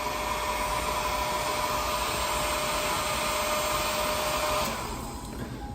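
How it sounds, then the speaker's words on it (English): A blow dryer blows hot air indoors in a steady loud broadband whoosh for several seconds, close by, then switches off and drops to quiet near the end. "We're going to be looking at this blow dryer here."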